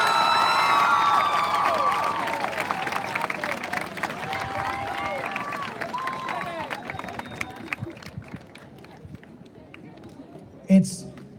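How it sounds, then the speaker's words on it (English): At an 8th grade graduation ceremony, graduates and the audience applaud and cheer for parents and family members: loud crowd cheering and whoops mixed with clapping that fade gradually into murmuring chatter, with one sharp thump near the end. "give your parents and your family members a huge round of applause"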